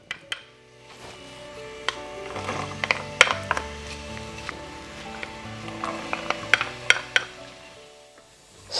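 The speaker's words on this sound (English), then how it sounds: "Heat a generous drizzle of olive oil in a pot over medium heat." Diced vegetables fry in olive oil in a pot over medium heat, a soft steady sizzle with scattered clinks and scraping of a utensil against the pot, close by and with no talking.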